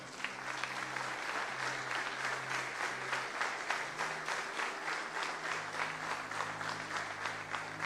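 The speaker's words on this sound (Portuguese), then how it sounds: "Então pode aplaudir o Senhor." Church congregation applauding steadily for several seconds, a dense, even wash of clapping from many hands with faint sustained tones underneath.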